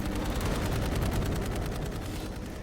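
Rapid automatic gunfire crackles in the video game Dark Void, a fast stream of evenly spaced shots heard at moderate loudness with no talking over it.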